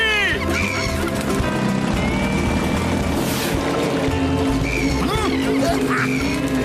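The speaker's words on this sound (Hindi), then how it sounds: "वो देखो डियर और सुंदर पंछी।" Cartoon birds, quacking and clucking like ducks and fowl, call loudly and continuously over a busy soundtrack with music and effects.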